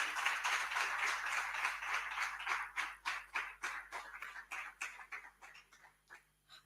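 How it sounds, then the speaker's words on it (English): Audience applause welcoming a speaker at a conference, steady crowd clapping that thins into separate, irregular claps and fades out toward the end, heard fairly faint with no talking. "A round of applause for Ms. Governor as she comes."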